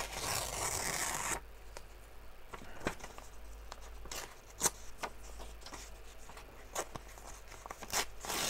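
Paper being torn out of an art journal, a rasping rip at the start followed by a series of short quiet crinkles and taps, close up in a quiet room.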